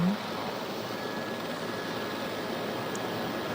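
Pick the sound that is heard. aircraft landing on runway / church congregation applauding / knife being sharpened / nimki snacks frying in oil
aircraft landing on runway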